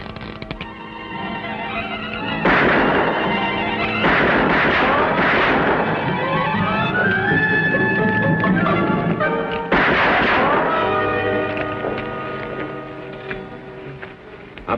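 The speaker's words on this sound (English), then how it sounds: "Fine shooting." Rapid trick-shooting gunshots from a handgun in a Western setting, several sharp loud bursts with ringing, metallic tones between them, spread across the stretch with no pauses of silence.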